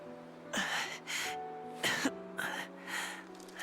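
A character coughing in the video game Metaphor ReFantazio: several short, harsh coughs in an uneven rhythm, up close, over a quiet, steady musical drone.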